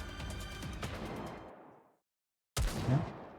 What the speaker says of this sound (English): The sound of gunfire and explosions can be heard in the distance.